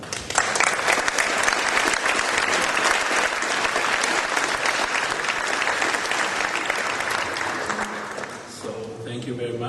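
A lecture-hall audience applauding to welcome speakers at an architecture lecture series, sustained dense clapping from a large crowd that swells quickly and fades out near the end, followed by a voice beginning to speak.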